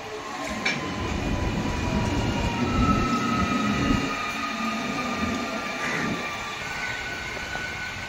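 A train passes close by, its rolling rumble building and fading over several seconds, with thin wheel squeal and rail noise and no talk.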